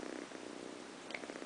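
A cat purrs softly and continuously while snuggling, a faint, close rhythmic rumble with steady pulsing breaths and no talking.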